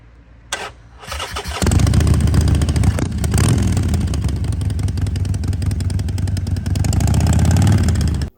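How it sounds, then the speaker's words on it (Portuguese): A Harley-Davidson 45-degree V-twin motorcycle engine starts close by, then settles into a loud, lumpy, uneven-firing idle with slight revving, with no voices. "Combustões na ordem de 405 a 315 graus, descompassadas que criam o som clássico Harley Davidson"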